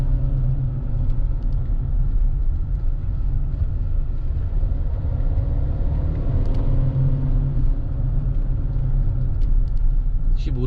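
Rear tire road noise from a used Kia All New Sorento on a test drive, a continuous low rumble and drone from inside the cabin, steady throughout with no talking.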